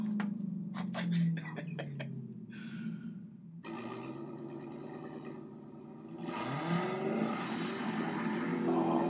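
A Dodge Demon's exhaust with the mid muffler deleted rumbles and then revs up with a throaty rise in pitch, while people talk nearby.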